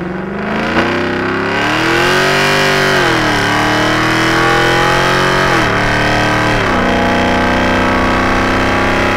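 A loud Ford Mustang GT (S197) with a cat-back exhaust revs up and down several times, its deep throaty pitch rising and falling in steady waves.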